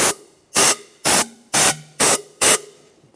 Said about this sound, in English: Just take some compressed air.